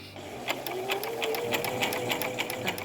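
A sewing machine with an overlock edge foot stitches fabric in a fast, even rhythm of ticking needle strokes over a soft motor whir, close and alone.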